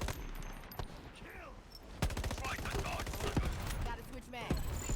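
Close-range MP5 submachine gun fire in the shooter Shatterline, rapid bursts of shots cracking under a commentator's speech and busy match noise.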